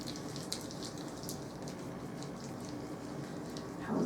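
Water runs steadily from a tap over hands being washed during a nourishing hand treatment, a continuous close splashing hiss with a slightly louder surge of flow at the end.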